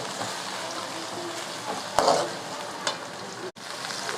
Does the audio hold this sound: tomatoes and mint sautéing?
yes